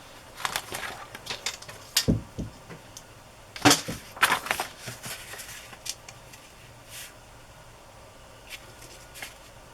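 Paper being cut to size for a handmade book journal, a quiet session of scattered crisp snips and rustles that bunch up in the first half and thin to occasional faint clicks.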